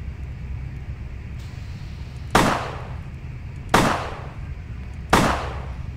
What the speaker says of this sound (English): Aim your cursor and wait for it to fully focus and use the attack to fire the gun.